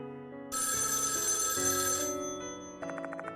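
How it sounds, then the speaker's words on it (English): Electronic phone ringtone in the game Death Mark 2, a bright synthesized melodic ring in shifting tones, played alone and close, with a pulsing chirp near the end. "Except the phone doesn't stop ringing."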